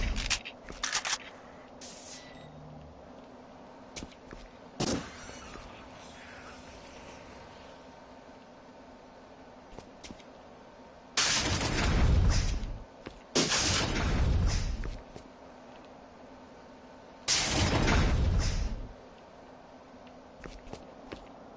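Shotgun blasts in The Thing: Remastered, a few loud booming shots spaced several seconds apart, each with a short ringing tail, amid quieter clicks and footsteps.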